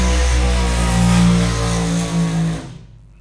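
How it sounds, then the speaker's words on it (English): A drag racing car in an ANDRA Sportsman Series event does a burnout, a loud sustained engine roar that holds steady, then cuts off abruptly into silence. "that was not a bad burnout"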